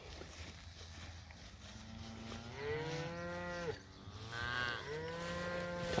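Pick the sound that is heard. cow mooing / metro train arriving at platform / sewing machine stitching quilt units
cow mooing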